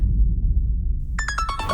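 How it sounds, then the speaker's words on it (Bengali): An incoming phone call rings out with a repeating electronic ringtone, a sudden series of bright, evenly spaced tonal pulses that starts after a stretch of low room hum and is heard alone. "আচ্ছা আমার একটা ফোন আসছে"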